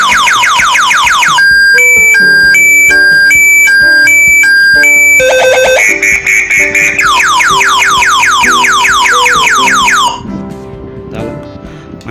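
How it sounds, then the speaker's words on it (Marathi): A motorbike anti-theft alarm sounds very loud and close, cycling through rapid warbling sweeps, steady beeping patterns and siren wails before cutting off near the end. "त्याच्यानंतर 3ऱ्या टाईमला अलार्म वाजला"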